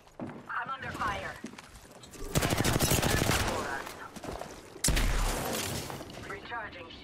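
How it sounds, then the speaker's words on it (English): Rapid bursts of automatic gunfire from enemies in an Apex Legends match, loud and sustained in two long volleys with a sharp new burst partway through, while a player talks over the firing. "The enemies are shooting at me."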